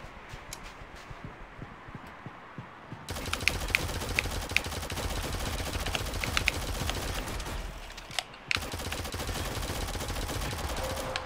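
Rapid automatic gunfire in the mobile shooter Shadowgun Legends during a duel, beginning after a quiet start. It runs as a dense, loud, continuous stream of shots, breaks briefly, then resumes just as heavily.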